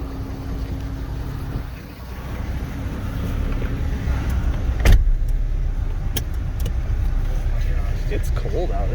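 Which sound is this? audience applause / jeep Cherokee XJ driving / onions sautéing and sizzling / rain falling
jeep Cherokee XJ driving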